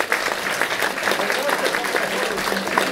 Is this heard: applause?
yes